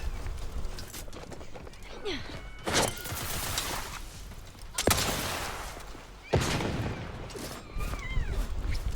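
Gunfire in The Outer Worlds: a few loud, sharp shots stand out over busy game ambience with scattered clattering and a voice in the background.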